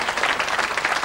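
Brief, steady burst of studio audience applause, many hands clapping close and loud for about a second.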